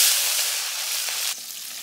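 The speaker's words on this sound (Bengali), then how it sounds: "তেল আর পেঁয়াজ কুচি দিয়া মাছগুলা ভাইজে নেব করছি" River prawns fry in oil with chopped onion, a loud, steady close-up sizzle that drops slightly in intensity partway through.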